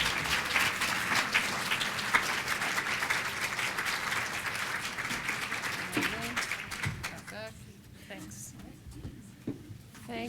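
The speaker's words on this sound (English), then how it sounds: "It's active applause." Audience applause at a physical activity forum, a dense, steady wash of clapping that fills most of the stretch before thinning toward the end, with some talk mixed in.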